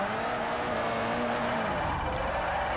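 Fiat 500 essesse drifting in Forza Motorsport 4, a steady loud engine drone with squealing tires sliding through a corner, continuous and close with no talking.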